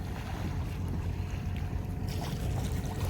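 A fishing boat engine drones steadily on the deep sea, a constant loud rumble mixed with wind and water rushing past, close by and without voices.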